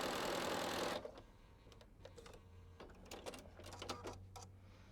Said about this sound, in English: So I sew down that side, and I'm going to put a line the same way, my foot on the line, or the edge of my foot on the line, and sew down the other side.